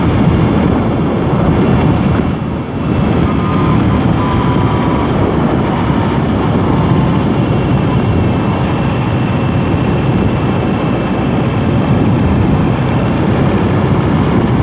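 A 2021 BMW R 18 cruiser motorcycle is ridden below 2,000 RPM, giving a loud, steady low engine drone blended with heavy wind rush that continues throughout.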